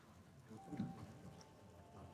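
Rain falling in the detective role-playing game Disco Elysium, a faint, steady patter with soft drops throughout, a slightly louder swell in the middle, no voices over it.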